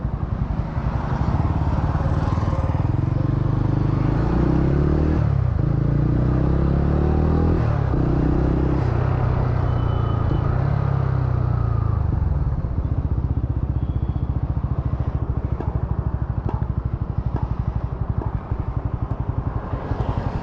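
Exhaust note of a TVS Ronin motorcycle heard while riding: a loud, close, continuous engine rumble that rises through revs and gear changes, easing off slightly toward the end, with wind noise and no talk.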